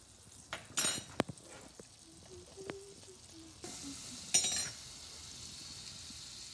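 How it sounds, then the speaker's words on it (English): Keto pancake batter sizzles in melted butter in a pan, faint frying under several sharp knocks and scrapes of utensils, with a brief louder burst of crackle midway. "we're gonna use butter for our base, for our grease, and then just add the batter."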